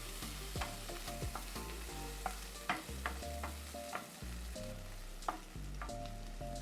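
Onions sauté in oil in a pan with a steady, soft sizzle and the repeated scrape and knock of a utensil stirring them, and no talk.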